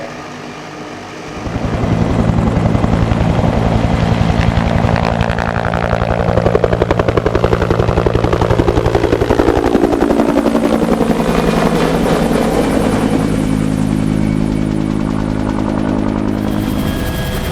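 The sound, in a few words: helicopter flying for aerial fish stocking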